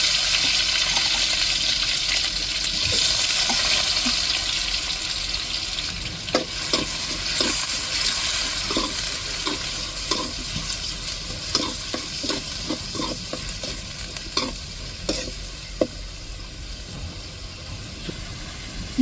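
Stone-ground ginger, garlic and shallots sauté in a pan for a crab gravy: a loud, even frying hiss joined by a run of quick spoon scrapes and taps in the second half, no speech.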